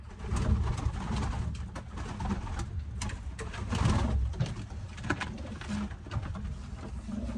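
Pigeons coo steadily in a loft, their low soft calls overlapping continuously with a constant rustling background.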